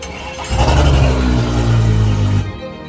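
A yacht's boat engine cranks over on power from a jump pack, a loud two-second churning burst that starts abruptly and cuts off, heard close with no talking.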